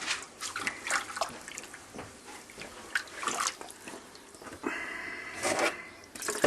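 Water being poured off a pan of rice as it drains, with uneven splashing and trickling bursts, small drips and pan jiggles, close and moderately loud.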